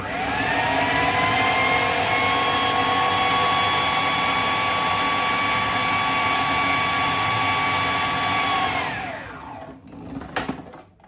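A food processor blends wild garlic pesto for pasta in a steady, loud whirring roar that holds for about nine seconds, then winds down as the motor stops, followed by a few small knocks.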